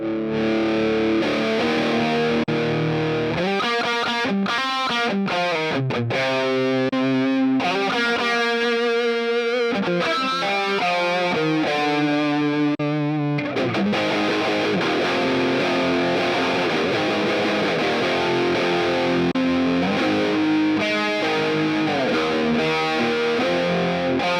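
Distorted electric guitar through a Hotone Ampero Mini multi-effects unit plays chords and melodic runs, thickened by delay, reverb and chorus, continuous and loud throughout with no talking.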